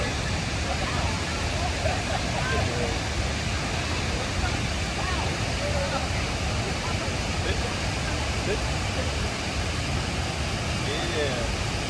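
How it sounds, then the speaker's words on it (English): Havasu Falls waterfall roars as a steady, dense wash of rushing water, continuous and fairly loud throughout with no breaks, heard from close by. "This is the view from the other side with the waterfall right there."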